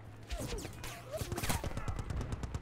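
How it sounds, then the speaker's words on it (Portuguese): Rapid gunfire in the video game Battlefield Bad Company 2, a rattling burst of shots building into a dense fusillade with a faint voice briefly audible underneath. "Tô tomando tiro atrás, velho."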